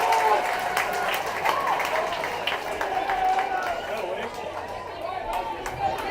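A baseball crowd at a Hendersonville Honeycrisps game applauds and cheers after a run scores, with scattered claps and crowd chatter continuing under a commentator's voice.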